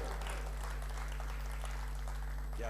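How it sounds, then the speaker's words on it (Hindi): A seated audience at a Hindi humorous poetry gathering applauds poet Mahesh Dubey with a dense, steady patter of clapping over a constant electrical hum, with no talking. "तालियां दीजिए महेश दुबे साहब को।"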